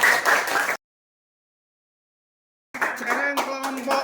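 A group clapping hands in a classroom-style workshop, a short burst of clapping mixed with voices, a gap of silence, then more clapping and children's chatter.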